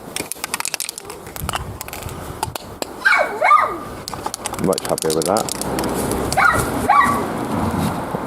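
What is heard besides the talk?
dog barking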